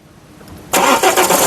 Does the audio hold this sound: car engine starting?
yes